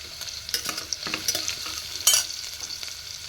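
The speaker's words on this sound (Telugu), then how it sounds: "ఈ అల్లం వెల్లుల్లి పేస్ట్ ఆయిల్లో బాగా ఫ్రై అవ్వాలన్నమాట." Ginger garlic paste fries in oil in a pan with turmeric, a close crackling sizzle broken by repeated stirring scrapes and a brief louder clatter near the middle.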